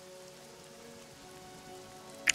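Steady rain falls in a medieval fantasy role-playing game, a soft, even hiss that continues alone throughout, ending with a brief sharper tick.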